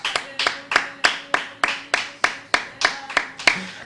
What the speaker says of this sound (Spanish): Le damos un aplauso al bendito.